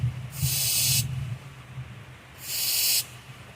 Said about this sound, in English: Now, more hairspray.